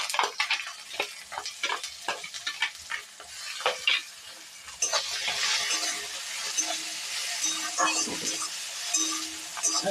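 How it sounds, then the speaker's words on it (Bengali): Ginger and garlic stirred into hot oil with fried onions, a spatula scraping and clinking against the pan in quick uneven strokes, then a steadier close sizzle for the rest. "আদা রসুনটা একটু নাড়িয়ে নিলাম।"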